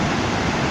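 Victoria Falls seen from the Zambian side, a steady broadband roar of falling water, dense and continuous like heavy surf, with no voices over it.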